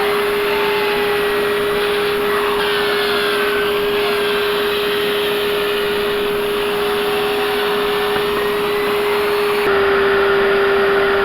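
A Bissell upholstery cleaner runs on the interior of a 1980 Dodge D150 pickup, giving a continuous, loud, high-pitched motor whine with a steady tone throughout and a slight change near the end.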